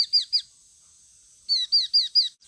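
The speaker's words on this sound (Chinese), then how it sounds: "你们2个是怎么做到这个叫声节奏一前一后，一点都没有乱哦？" Two small rescued fledgling birds calling in alternation, a quick pair of high, thin chirps, a short pause, then four more evenly spaced chirps, close and clear.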